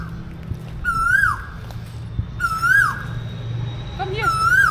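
A crow imitating a peacock's call gives three loud, rising-then-falling wailing cries at intervals, heard outdoors in a Bangkok neighbourhood over steady background hum.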